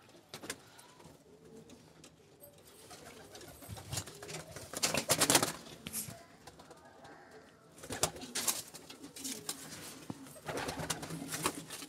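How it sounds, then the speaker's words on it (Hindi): Pigeons released from a rooftop coo and flutter outdoors, with bursts of wingbeats and rustling rising and falling over a soft background hum. "तो खोलते हैं अब हम ये कबूतर।"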